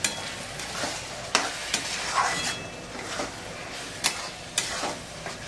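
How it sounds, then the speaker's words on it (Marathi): Tomato paste is stirred into vegetables frying in oil for veg pulao, with a constant sizzle under repeated sharp scrapes and clanks of a spoon against the pan, close by and without speech. "आता ती पेस्ट मी याच्यामध्ये टाकून घेते. व्यवस्थित अशी आपण पेस्ट मिक्स करून घेऊया."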